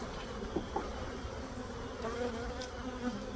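Honey bees swarm and buzz around an opened hive during a frame inspection, a steady close drone with occasional louder passes near the ear.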